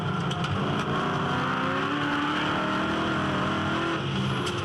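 A V8 ute race car at Winton circuit roars continuously through a 4.7-second stretch, with its engine note holding steady and rising under throttle. It is loud and close, and no one speaks.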